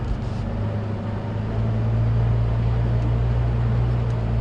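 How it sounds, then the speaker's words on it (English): A safari vehicle's engine idles steadily on a wildlife drive, a low continuous rumble that grows slightly louder partway through, with no talking. "Maybe that's just because the engine's running."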